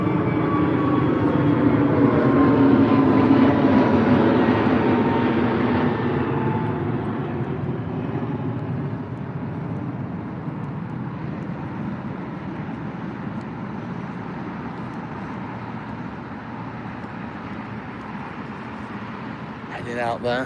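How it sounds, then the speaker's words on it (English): A British Airways Airbus A321 departs Heathrow for Cairo, its engine roar swelling loudly early on, then slowly fading into a long, steady rumble as it climbs away. "British Airways off to Cairo, Egypt,"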